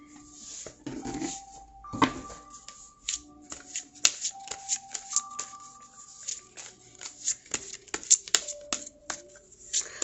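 Tarot cards being shuffled by hand, a run of crisp riffling bursts and soft slaps in quick irregular rhythm, close and clear with near silence between.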